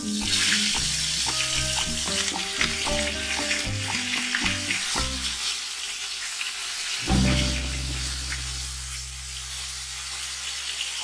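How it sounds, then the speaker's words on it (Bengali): Koi fish go into half a cup of hot oil in a wok, and a loud, bright sizzle bursts in partway through after a stretch of background music, then keeps crackling steadily. "কড়ায় 1/2 কাপ তেল গরম করেছি, এবার কই মাছগুলো হালকা করে ভেজে তুলে নেব।"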